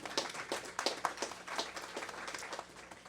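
A small audience at a charity talk about housing Canadian veterans gives brief, fairly faint applause, a scatter of uneven claps that thins out toward the end.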